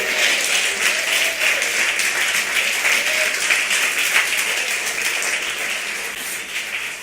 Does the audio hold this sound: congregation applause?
yes